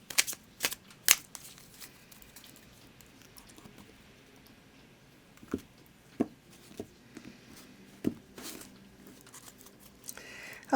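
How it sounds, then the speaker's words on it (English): A deck of tarot cards being shuffled, soft intermittent riffles and slaps spread unevenly through a quiet room, close and faint with no voice. "I'm going to go ahead and shuffle the deck for you."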